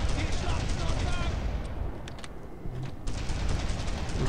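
Dense, continuous World War II battle gunfire from Brothers In Arms: Road to Hill 30 during the D-Day landing, rapid overlapping shots filling the whole span, with a brief quieter dip midway.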